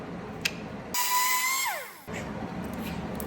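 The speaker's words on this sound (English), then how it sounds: "I'm gonna cut this little end off right here with a whiz wheel" A whiz wheel cut-off tool slices the end off an outer hinge carrier panel on a VW Bus Kombi rear section, a loud, steady high-pitched whine lasting about a second, its pitch sliding downward as the wheel spins down.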